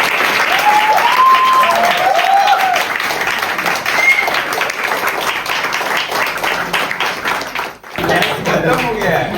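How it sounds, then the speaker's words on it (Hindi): Theatre audience at a student play gives loud, sustained applause, dense clapping throughout with a short dip near the end, while someone speaks over it. "जोरदार तालियां"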